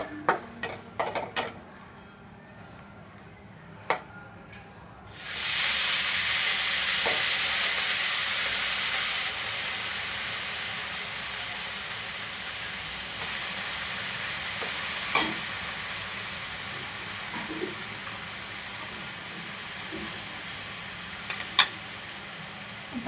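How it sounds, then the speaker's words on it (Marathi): Spices crackle and sizzle loudly in a hot pan as a Marathi home-style tempering is made, a steady frying hiss rising suddenly after a few scattered clinks and taps, then slowly easing while occasional utensil knocks ring out. "ही बघा, आपली चांगली फोडणी चांगली झाली."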